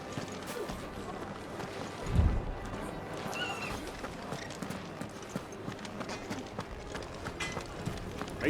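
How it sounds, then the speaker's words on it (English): Ambrosia the steed, a horse in the video game Final Fantasy XVI, with hooves clopping and one heavier stamp amid ambient background, while voices talk over it. "Your steed is in fine fettle, my lord."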